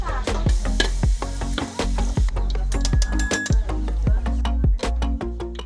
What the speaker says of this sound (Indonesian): Kita goreng bareng ya Bu.